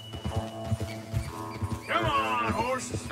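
Horse hooves clip-clopping in Red Dead Redemption 2, a steady run of close hoofbeats, followed by a loud horse whinny near the end, with faint voices talking in the background.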